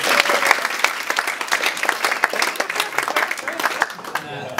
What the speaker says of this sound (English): All the clap for that